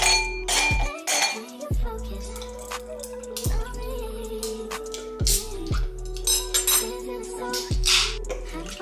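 A wine glass clinks several times as a mocktail is made, giving close, bright clinks with short ringing tails at uneven gaps, plus a few soft kitchen knocks.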